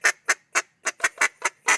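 A duck call blows a broken feed call: eight short, sharp honking notes in a quick, slightly uneven rhythm, loud and close, with no talking.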